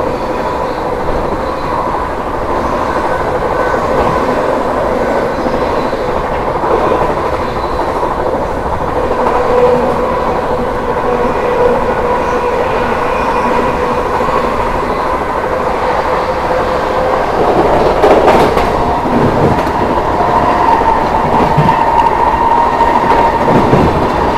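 The New Delhi–Islampur Magadh Express rolls past on the line near Prayagraj, a loud continuous rumble of wheels and carriages with rhythmic rail clatter, swelling as it draws level and passes close by.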